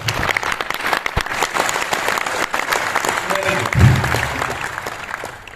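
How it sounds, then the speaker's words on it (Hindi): An audience at a motivational talk in Bhilwara applauds first-time attendees, a full, continuous round of clapping from a large crowd with a slight swell near the end, while voices are heard beneath it. "इन लोगों के लिए ताली बजाओ"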